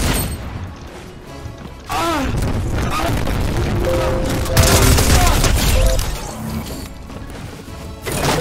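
Rapid gunfire from the Fortnite video game crackles in dense bursts with heavy booms throughout, loud and close, mixed with game effects and occasional talk.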